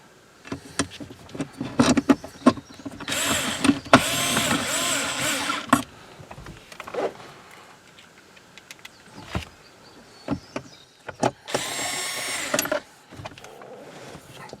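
Screws are driven in to fit a RAM Mounts Tough Track mount inside a Jeep JT Gladiator or JL Wrangler, giving bursts of power-driver whirring between handling clicks and knocks, close and fairly loud.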